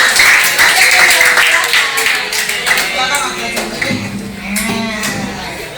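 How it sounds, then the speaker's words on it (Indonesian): Junior high school students clap for a classmate named Faiz, a dense, loud patter filling a room, with voices and chatter mixed through it. "Tepuk tangan dong buat Faiz."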